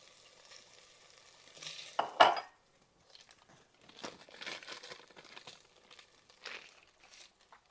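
Cooked chicken for a creamy chicken pasta is scooped from a pan into a bowl. A spoon gives quiet scrapes and clinks, with one louder scrape and rustle near the middle, then soft intermittent scraping.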